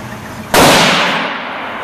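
A single loud, sharp gunshot at an outdoor gun range, a sudden crack followed by a fading echo, with no talking.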